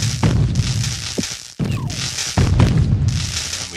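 Shocking barricades bursting in the video game Crashlands, a pair of loud booming blasts with a brief gap between them, sounding close and full over steady game background noise.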